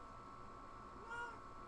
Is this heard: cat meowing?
yes